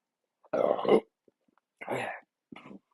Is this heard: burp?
yes